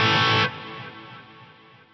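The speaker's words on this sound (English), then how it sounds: "You can really crank the slurm control up if you want more of a kind of reverb-y style wash." Electric guitar through an Eventide UltraTap pedal with a reverb-like wash: a dense, loud sustained chord cuts off sharply and leaves a smeared, shimmering tail that slowly fades.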